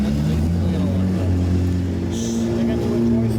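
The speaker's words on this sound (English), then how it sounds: "That's a crazy exhaust." A loud car exhaust at the SEMA 2018 show gives a steady, low, droning rumble. Voices murmur around it.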